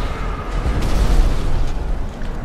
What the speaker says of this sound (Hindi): ये बम मसाला किसने लगाया बीच में?